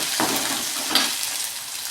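Crushed ginger, garlic, green chili and onion sautéing in a pan, giving a steady close sizzle with a soft scrape of stirring near the start and one brief clink partway through.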